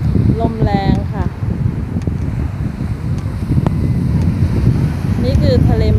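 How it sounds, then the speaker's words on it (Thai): Strong summer wind on the Mediterranean coast at Peñíscola, Spain, buffeting the microphone in a loud, steady roar, with someone talking over it. "ลมแรงค่ะ"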